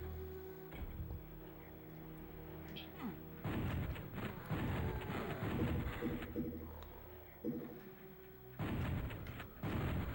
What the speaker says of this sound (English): Let's see what I can do with the shotgun.